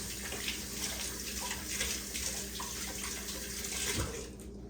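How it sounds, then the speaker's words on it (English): Hands are washed under a running kitchen tap: a steady, close rush of water splashing into a sink throughout, easing off at the very end. "Let me wash my hands."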